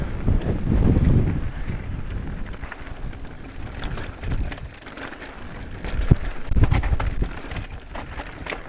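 Heavy wind buffets the microphone while riding an Orbea Rise e-bike outdoors, with loud low gusts swelling near the start and again toward the end, continuous rumbling throughout.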